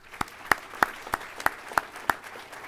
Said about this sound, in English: please, a round of applause for our military members